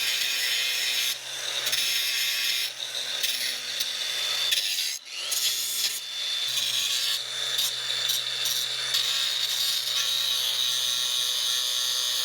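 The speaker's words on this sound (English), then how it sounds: "now I'm just grinding this part to clean it up" A grinder works a metal part of a John Deere lawn mower up close, a harsh abrasive rasp that varies in intensity with a brief pause midway.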